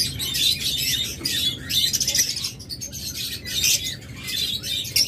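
A double-factor pair of budgerigars chirps and warbles rapidly, close by and fairly loud, in continuous bursts of high twittering with brief pauses between phrases.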